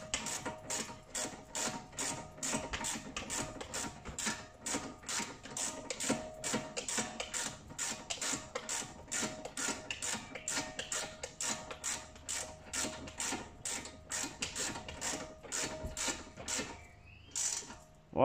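Ratchet working on the brake caliper bolts of a Mercedes CLA Shooting Brake, a steady run of quick, evenly spaced mechanical clicks continuing for most of the stretch, close and fairly loud, with no talking.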